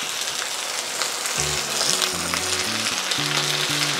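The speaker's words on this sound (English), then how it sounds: "So let's go with our garlic first. And let's add some vegetables" Garlic, onions and other vegetables stir-fry in a hot pan for a vegetable udon dish, a strong, steady sizzle with faint low tonal notes underneath partway through.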